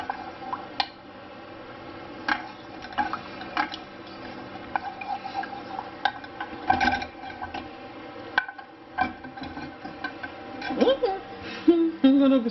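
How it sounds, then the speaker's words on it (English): Gravy sauce is poured over a roast turkey with sage and onions, giving soft wet drips and glugging pours close by, with a voice talking over much of it and a few clinks. "I'm gonna be pouring that right on top of my turkey, on top of my roasts and my sage and onions"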